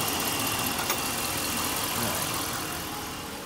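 A 5.7L Hemi engine idles steadily and close by, a dense, even mechanical rumble holding at constant loudness with no speech over it.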